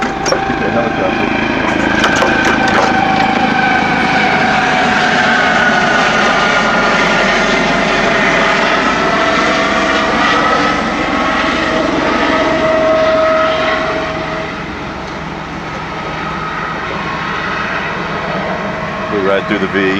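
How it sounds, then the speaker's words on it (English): Helicopter passing over a Los Angeles shoreline during a fire boat display, a loud continuous engine and rotor drone that fades somewhat near the end, with people talking. "The helicopter."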